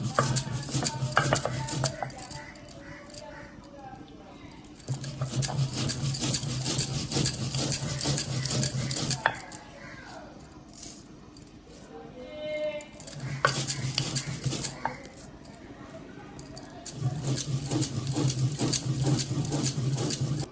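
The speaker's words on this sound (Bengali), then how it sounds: "যতক্ষণ এটি হচ্ছে ততক্ষণ আমি ভাজা মশলাটি বেটে নেব।" Roasted spices are ground into a paste in bursts, each a loud, close whirring grind lasting a few seconds, separated by quieter pauses with faint scraping.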